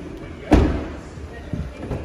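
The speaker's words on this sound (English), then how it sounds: "Driver's side door now." The driver's side door of a 2019 Mazda 2 Neo closes with one firm, fairly close thump, followed by a softer knock; someone talks nearby.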